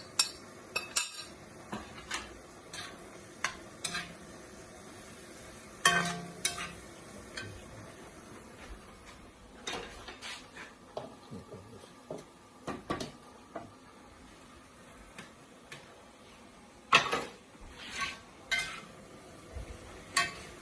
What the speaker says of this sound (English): And now you can put in the peas.